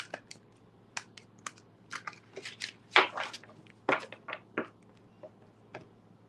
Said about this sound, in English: I'm just going to shuffle and be ready.